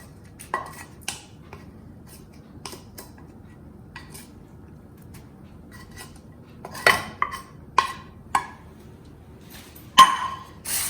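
A spoon stirs a spice and tamarind mixture in a pan, with sparse metallic clinks and scrapes that grow more frequent near the end, over a quiet background.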